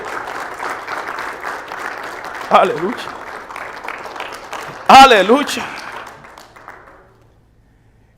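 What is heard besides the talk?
congregation applause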